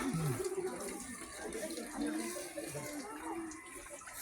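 Water runs steadily at a grotto's holy spring washing area, a continuous splashing flow with faint voices in the background.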